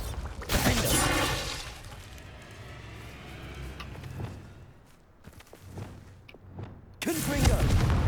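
A Bombarda blasting spell goes off in Hogwarts Legacy on PS5 as loud booming bursts open and close an 8-second stretch, with rumbling game ambience and scattered impacts in between.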